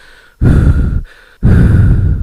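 Heavy panting breaths from a voice performing a manga character who glows with released aura and windswept hair, two long loud exhales separated by a short pause, close and alone with no talk.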